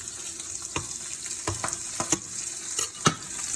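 A T-bone steak frying in a pan with melting butter gives a constant close sizzle, with a few clinks and scrapes of a utensil on top and no voices.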